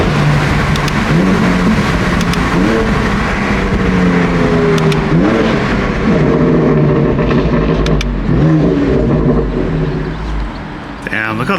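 A 2016 BMW M4 engine revs loudly up and down in repeated rising and falling bursts, close by, with a voice talking over parts of it.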